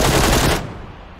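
Loud automatic gunfire in the video game PUBG, a rapid burst up close that stops abruptly and leaves a fading echo. No one speaks.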